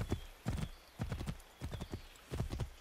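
Horse hooves clip-clopping in the video game Assassin's Creed 3, a brisk repeated pattern of clustered hoof strikes at a steady walking rhythm, fairly close and moderately loud, with no talk over it.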